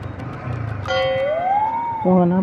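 A vehicle passing suddenly with a siren-like tone that rises in a smooth sweep, then shifts to a loud steady wail at the end, heard close over faint background noise.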